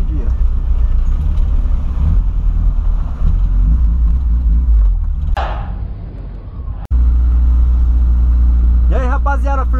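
A refurbished Volkswagen Voyage car engine rumbles steadily and close while the car drives out of a garage, with a brief cutoff midway before the low drone resumes and a voice comes in near the end.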